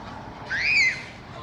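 A duck and duckling in Elmore Park, Rugeley, UK, give a single short rising-and-falling call over quiet outdoor ambience.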